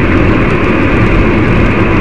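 A 25-year-old gearbox in an electric car whines steadily while driving at speed, loud and constant with heavy road and cabin rumble, no voices.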